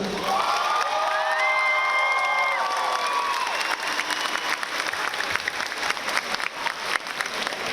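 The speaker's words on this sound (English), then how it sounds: "Can we clap for our graduates?" A high school graduation crowd applauds and cheers loudly, with whoops and whistles over dense clapping at first, then thinning into scattered claps and crowd noise.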